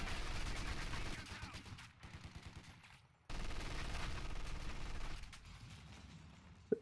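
Sustained bursts of MG42 machine-gun fire during house-to-house fighting in a Battle for Caen video game, dense and loud, with a brief lull partway through before the firing resumes and rolls on to the end.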